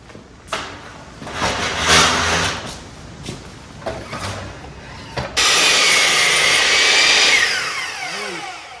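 Power saw blade cutting wood for a chicken tractor build, loud whining tool noise with rough bursts, then a steady high buzzing cut that winds down at the end.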